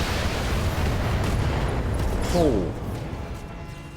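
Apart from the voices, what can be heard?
SRM ammo explosion in BattleTech video game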